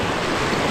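High, fast water rushes loudly and continuously close by, a broad steady roar with no pauses.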